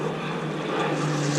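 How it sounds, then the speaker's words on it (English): A propeller airplane passes overhead above spring woods, a loud steady engine drone with a strong low hum that holds throughout and swells slightly toward the end, with no talking. "that plane's going right over us again"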